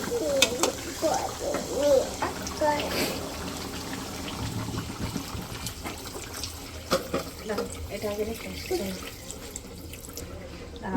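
Water is poured into a pot of beef curry being cooked down, with a running, trickling splash under a person's speech in a home kitchen.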